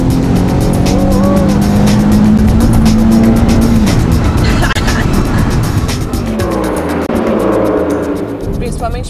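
Race cars roar past on a motor racing circuit, a loud sustained engine drone with rising and falling pitch and tyre noise, fading toward the end.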